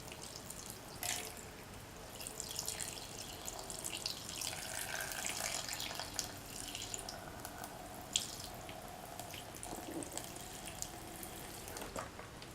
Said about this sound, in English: Pour in 500 ml of milk.